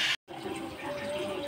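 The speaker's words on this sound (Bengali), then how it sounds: "এখন আমি জল দিয়ে দেবো।" Water is poured into a cooking pan of well-fried soybean curry with potato and papaya, making a steady rushing splash that runs throughout after a brief silent gap near the start.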